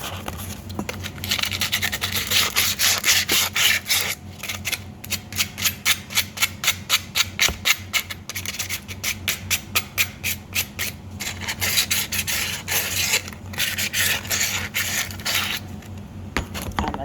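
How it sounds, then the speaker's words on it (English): Wood sanded by hand with coarse 60 grit sandpaper, quick rhythmic scratchy strokes close up, repeating in steady bursts throughout. "So we're going to go ahead and sand everything down"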